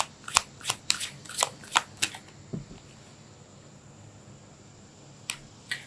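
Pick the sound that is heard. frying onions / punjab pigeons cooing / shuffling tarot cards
shuffling tarot cards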